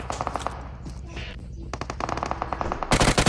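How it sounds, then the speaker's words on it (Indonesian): Video game machine gun fire in rapid bursts, dense and loud, ending in a heavy close volley, with a voice talking underneath at the start. "Iya, kerasa banget tuh pelurunya itu. Ya Allah, nembak apa sih, Eksa?"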